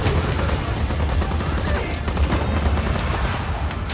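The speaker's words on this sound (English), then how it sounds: "Firing missiles now." Missiles launched in the video game Just Cause 4, a dense, continuous barrage of loud explosive firing bursts that keeps going throughout without a break.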